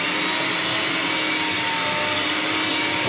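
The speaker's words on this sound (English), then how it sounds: "So it's time for the whisking." An electric whisk whips homemade beard butter with a continuous, loud motor whir and steady buzzing drone that holds without a break throughout, with no talk.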